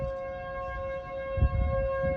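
Civil defense siren sounding a tornado warning in northern Rock County, a steady tonal wail with several harmonics held across the clip, with some low rumble rising near the end.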